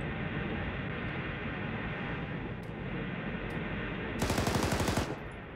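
Automatic gunfire in the military shooter game Arma 3, heard against a constant loud rumble, with a few isolated cracks and then a rapid burst near the end.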